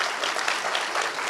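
Audience applause at a Jhansi, Uttar Pradesh government event, a short, even burst of many hands clapping at moderate volume with no voices.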